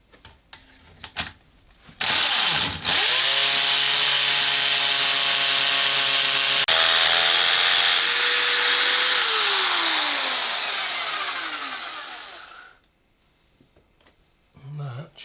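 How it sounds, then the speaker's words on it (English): A power drill whines steadily at high pitch, grinding loudly into whinstone for about ten seconds before winding down and stopping, with a few faint knocks around it. "Right, I need to finish drilling this hole."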